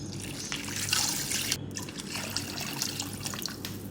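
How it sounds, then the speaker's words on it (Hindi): Water poured into a cooking pot over blended beef trotters for paya, a steady splashing and trickling stream heard close up, continuous and moderately loud throughout. "पानी डालूंगी इसमें, पानी इतना डालेंगे कि ये सब डूब जाए अच्छी तरह से।"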